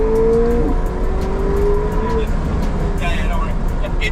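A luxury supercar drifts with its rear wheels sliding, a loud engine drone and tyre noise heard from inside the car, with a rising engine tone early on and people talking over it.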